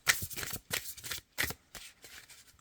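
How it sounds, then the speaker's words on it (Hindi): Oracle cards are shuffled close up in several quick papery riffling bursts separated by short gaps. "मैं एक कार्ड और निकालती हूँ।"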